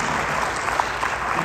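An audience applauds steadily at a live talk on mindset and real estate, a dense, even wash of clapping from many hands filling the whole moment without a break.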